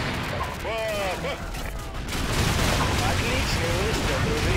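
A rifle shot and surrounding gunfire in the Call of Duty 4 mission set in a village, with a loud blast and rumbling fire taking over midway after a stretch of voices talking.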